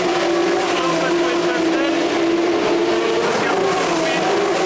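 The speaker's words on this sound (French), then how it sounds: "Donc là, il y a les F3, donc c'est pour ça qu'il y a du bruit." Formula 3 race cars at the Monaco Grand Prix, a loud continuous high-pitched engine whine echoing through the street circuit, with a voice speaking underneath.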